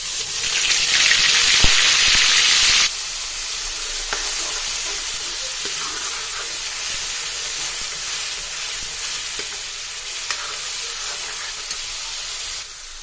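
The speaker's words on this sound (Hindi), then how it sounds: "हम इसमें ये कुछ खड़े मसाले डाल देंगे। उसके बाद ये प्याज डाल देंगे।" Whole spices, then onions, hit hot oil with a loud close hiss that bursts at the start and eases into a steady sizzle with faint clinks, continuing unbroken and without speech.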